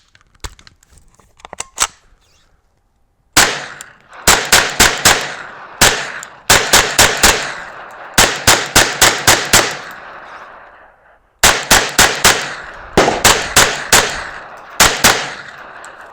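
A Ruger PC Carbine fires at an outdoor range in loud, sharp shots close by, in rapid clusters of three to five with short pauses between strings.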